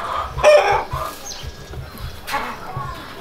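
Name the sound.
chickens clucking at a small farm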